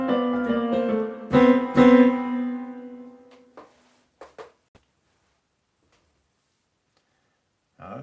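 Dissonant excerpt from a piece, with sustained harmonic chords ringing for about three seconds, two louder accented stabs in the middle, then fading into sparse clicks and silence.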